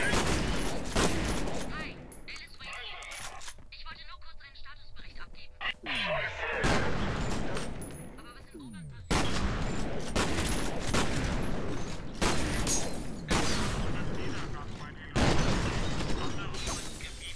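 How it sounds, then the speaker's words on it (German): Rapid automatic gunfire from an enemy's weapon in the F.E.A.R. video game crackles in long, dense bursts with brief gaps and mechanical clatter, loud and close, while someone talks over parts of it. "ich knall ihn ab und seine Waffe schießt noch weiter"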